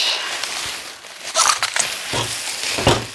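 Bubble wrap is wound around a glass mirror being packed for shipping, giving a steady close crinkling and rustling with a few louder crackles and scrapes.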